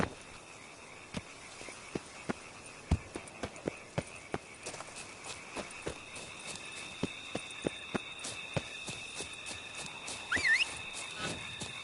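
Roach the horse moving in Witcher 3 Blood and Wine, spaced hoofbeats picking up into a quicker clip-clop over a faint bed of insect chirps and ambient game sound.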